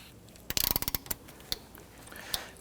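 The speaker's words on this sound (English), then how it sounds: "Now you can use an impact driver, or you can use your ratchet like I'm doing." A hand ratchet with a 12mm socket and extension loosening the battery clamp bolt on a 2011-2015 Kia Sorento clicks in a quick run of sharp ticks, followed by a few slower, fainter clicks, close by and with no talk.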